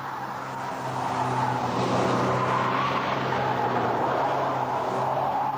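Citroën BX 19 GT driven hard and cornering at speed, a steady loud engine drone with road and wind roar held throughout, no break and no voices.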